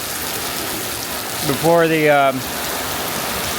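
Steady rain pours during a gale on the Malaysian coast, a dense continuous hiss, while someone briefly speaks over it.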